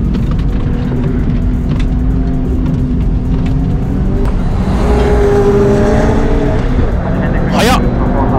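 A Subaru GRB fitted with an HKS GT3 turbine and Endless calipers runs a time attack at Honjo Circuit, its engine droning steadily with a rising surge and a brief high-pitched burst near the end, while voices murmur in the background.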